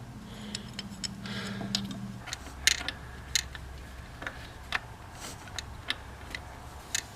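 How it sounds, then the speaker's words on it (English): A flat wrench slowly turns a glow plug out of a MK1 Volkswagen Rabbit diesel engine, producing a series of scattered metallic clicks and ticks close by, irregular and fairly faint against a low background. "I just have to bring it out all the way with the flat wrench"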